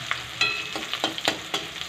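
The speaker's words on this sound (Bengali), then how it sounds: "টমেটোর কাঁচা গন্ধটা যাওয়ার জন্য একটু ফের ভাজা ভাজা করে নেব" Chopped tomato frying in a pan, a soft continuous sizzle broken by several sharp stirring scrapes at roughly regular intervals, heard close up with no talking.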